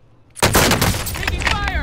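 Call of Duty gunfire bursts in sharply after a brief quiet moment, then continues as loud, rapid shots crowding close together, with a voice briefly mixed in.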